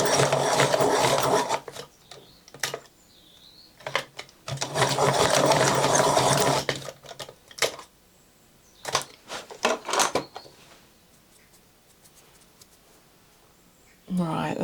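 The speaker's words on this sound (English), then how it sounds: "I'm just going to sharpen one of them" A Neocolor II wax pastel crayon is turned in a sharpener. Several bursts of dense grinding and rasping last a second or two each, close and loud, with pauses between them and no talk.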